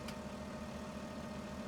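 Tractor engine in Farming Simulator 17, a steady low idling drone with a faint tonal hum, constant and unbroken throughout.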